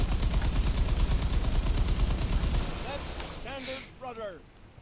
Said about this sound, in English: turrets are firing on other things like rockets